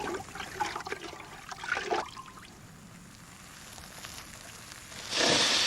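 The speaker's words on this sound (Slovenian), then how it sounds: "Ja, za tale ogenj zadostuje vedro vode." A bucket of water dumped onto a fire in the Fireman Sam cartoon: splashing and trickling, then a loud hissing rush of water at the end.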